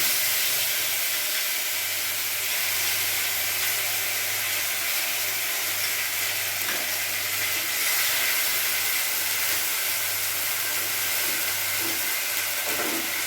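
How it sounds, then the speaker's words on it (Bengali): Onion paste going into a hot frying pan during the making of a katla fish rezala, a loud, steady hiss of sizzling oil that holds evenly throughout, with a faint low hum underneath. "পেঁয়াজ বাটাটা আমি পুরোটা দিয়ে দেবো"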